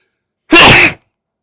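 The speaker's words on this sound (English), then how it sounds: "Hold on, I gotta sneeze." A single loud, close sneeze bursts out alone, lasting about half a second and followed by silence.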